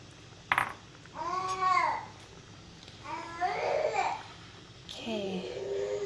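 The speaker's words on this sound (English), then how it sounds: "She's discovered her voice, so she makes all these cute little sounds." A baby girl babbling in cute little cooing and squealing bursts, three short runs of voice near and fairly quiet, with faint kitchen background in between.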